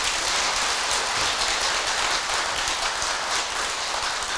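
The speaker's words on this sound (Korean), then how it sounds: "오늘 부산 쪽에도 온 불자들한테 크게 박수 한번 보내주세요" Audience at a Buddhist dharma talk applauding for visiting lay Buddhists from Busan, a dense, steady wash of clapping from a crowd that carries on evenly through the whole stretch without pause.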